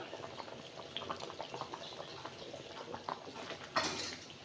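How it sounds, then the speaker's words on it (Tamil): A pot of South Indian tamarind curry with elephant foot yam bubbles softly at a low simmer, quiet gurgles and pops, ending with a brief clink of metal. "குழம்பு பாருங்க நல்லா வந்து கொதிச்சிட்டு இருக்குது"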